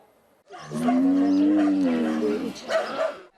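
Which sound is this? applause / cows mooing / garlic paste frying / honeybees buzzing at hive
cows mooing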